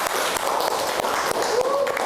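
A physics classroom of students gives a short burst of applause, a dense clatter of many hands lasting about two seconds, moderately close, with faint voices mixed in.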